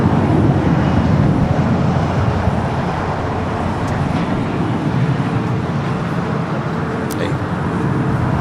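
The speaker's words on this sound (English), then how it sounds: "Your next Dreamliner arrival on 25 at left." A Boeing 787 Dreamliner arriving on runway 25 left at Los Angeles International Airport, heard as a steady, broad jet roar at moderate distance that holds level throughout.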